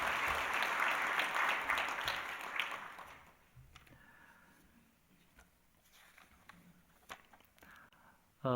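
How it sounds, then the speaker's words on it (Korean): A church congregation at a Sunday service applauds in celebration, with dense, lively clapping for about three seconds. It then fades into a quiet room with scattered taps and soft movement. "다시 한번 축하의 박수 드리고요"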